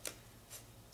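Scissors snipping paper pieces for a handmade shaker card, three quick, faint cuts spaced evenly in a quiet room.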